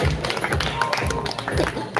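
An audience at a speech competition certificate ceremony breaks into applause, a quick stretch of claps and taps with some crowd noise and voices mixed in.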